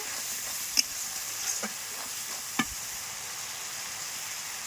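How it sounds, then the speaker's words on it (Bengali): Masala paneer with a ground cashew, peanut and raisin paste is stirred in a hot pan, a steady soft sizzle broken by a few sharp taps of the spoon against the pan. "এটা দিয়ে একটু ভালো করে নাড়াচাড়া করে নেব।"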